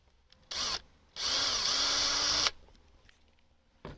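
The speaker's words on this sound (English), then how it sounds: "I'm going to drill a small hole, a pilot hole." Power drill boring a small pilot hole for a homemade beekeeping uncapping tank, heard as a short burst followed by a longer steady whine of about a second and a half, close and loud, then a faint tap at the end.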